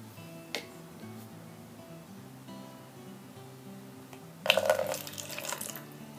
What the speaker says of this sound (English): Now we're going to take 2 tablespoons of salt water and pour it in the cup.